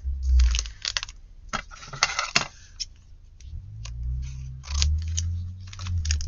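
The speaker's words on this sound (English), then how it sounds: "Then you can just cut the edge" Scissors snip along the edge of a material in a short run of sharp cuts and crisp clicks, close and fairly loud, with low handling thumps beneath and no talking.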